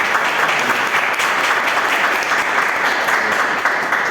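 Sustained audience applause fills a meeting hall at a river basin committee session, steady and dense throughout without pause.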